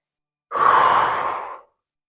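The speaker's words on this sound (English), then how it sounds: "Inhale out." A single long, breathy exhale, close and clear, released during a yoga core exercise with knees drawn toward the triceps, lasting about a second before falling silent.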